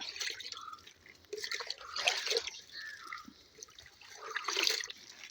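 Water trickling and dripping onto freshly planted seedlings, soft intermittent splashes and drips close by in a quiet outdoor setting.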